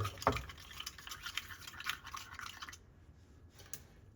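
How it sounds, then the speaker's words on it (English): Faint, rapid scraping and clinking of a plastic stir stick swirling espresso from a Lavazza coffee machine in a cup, soft and close, fading out near the end. "Stir it up right there."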